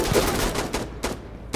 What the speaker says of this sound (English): We're shooting each other.